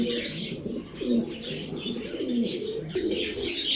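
Pigeons coo in low repeated rolling phrases on a pigeon farm, several birds overlapping close by at moderate volume, with soft chirps and rustling around them and no talking.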